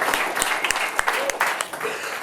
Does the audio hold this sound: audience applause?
yes